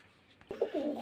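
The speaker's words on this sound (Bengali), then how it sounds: "খুব সুন্দর কলটা আছে পায়রার" A pigeon gives a brief, soft coo, a single low rolling call rising after a faint thump, heard close and quiet.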